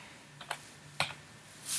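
A few light, isolated clicks from a computer keyboard tap out at close range in a quiet room while someone types up a LaTeX document.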